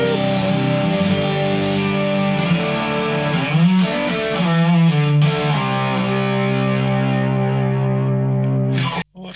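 Heavily distorted electric guitar played through the dirty channel of an amp, sustained loud chords and a brief bending run, ringing continuously before cutting off abruptly at the end.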